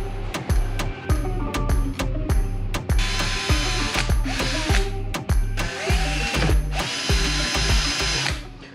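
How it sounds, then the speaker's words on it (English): A power drill bores holes for a truck light bar mount on a 2011 Chevrolet Silverado, loud and close, in repeated short bursts with sharp starts and stops, and a ratcheting, gear-whining edge between runs. "we got the holes drilled"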